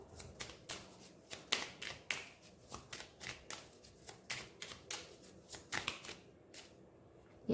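Oracle cards shuffled by hand in quick, irregular bursts of crisp flicks and taps, fairly faint and close, with no talking over them.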